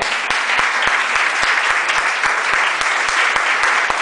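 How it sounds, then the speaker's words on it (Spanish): A church congregation claps together in praise during a Spanish-language sermon, a steady wash of applause with a few sharp, distinct claps standing out, loud and continuous throughout. "denle un aplauso al Señor, porque Dios está teniendo misericordia"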